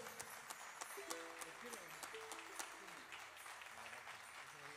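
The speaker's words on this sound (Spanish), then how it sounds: "Lo recibe con mucho cariño y con un aplauso de ustedes." Faint audience applause greets a visiting music group from Chañaral at an Andean regional gathering; scattered claps sit under quiet tones and a voice in the background.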